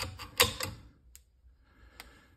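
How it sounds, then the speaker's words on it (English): Metallic clacks from a rifle bolt locking back after a magazine is inserted: a cluster of sharp close clicks, then a lighter tick and a final single click in quiet surroundings. "Bolt holds back."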